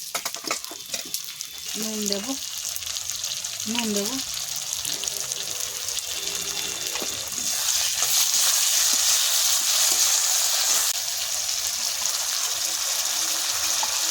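Tomatoes and salt sizzle as they fry in hot oil in a pan with browned onions, dried red chilli and cumin for a tuna fish curry. The steady hiss grows louder partway through, under a few brief spoken words.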